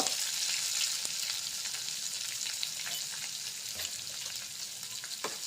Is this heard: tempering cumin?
yes